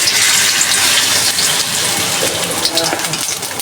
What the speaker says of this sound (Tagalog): Isalangan ko muna ng prito ko muna itong manok. Yung chicken wings.